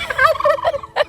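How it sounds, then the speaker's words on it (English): A rescued chicken clucks up close in a quick burst of loud, warbling fowl calls, a brief run of throaty notes followed by one more sharp call. "a friend of mine saved these 2 chickens and they came to live here"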